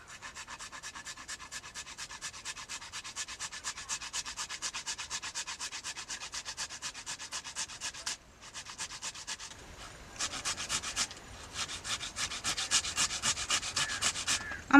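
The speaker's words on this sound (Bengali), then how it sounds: "গেটারে ঘষে আমি টমেটো জুসটা বের করে নেব" Tomatoes are rubbed against a grater to extract juice, making a steady, rhythmic rasping that runs close and continuous, pauses briefly, then resumes slightly louder.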